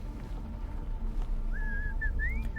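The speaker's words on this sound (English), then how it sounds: "I heard a man whistling." A man whistles a short rising and falling tune in the horror survival game Oregon Trail in the Dark, a few thin whistled notes over a low rumbling ambient drone.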